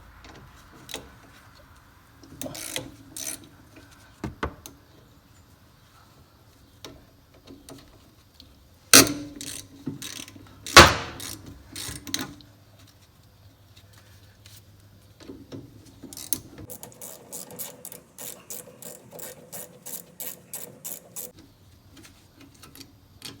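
A ratchet with a 13mm socket loosens the rear brake bolts on a 1997–2003 Ford F150, heard as scattered clicks and metallic knocks, then a run of quick, evenly spaced ratcheting ticks near the end, fairly close, with no talking.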